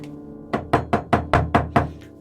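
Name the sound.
knocking on a door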